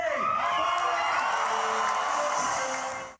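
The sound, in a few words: Comic-Con crowd cheering for Michael J. Fox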